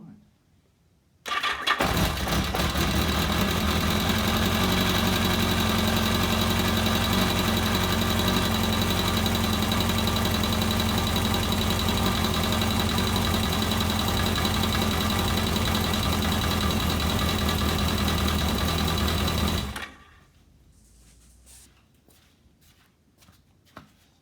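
An engine cranks and fires up after oil filter housing work, then settles into a loud, steady idle for about eighteen seconds before cutting off abruptly, leaving faint knocks and shuffling.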